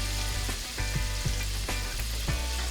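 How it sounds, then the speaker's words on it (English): Fresh lemon juice hits a hot frying pot with a steady, loud sizzle and crackle, broken by a few soft thumps and clinks as the lemon is squeezed and stirred. "I'm just going to squeeze in fresh lemon juice right into the pot"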